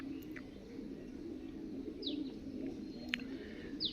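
Soft, low cooing from a king pigeon in a house pigeon loft, murmuring steadily in the background, with a few brief chirps from other birds close by.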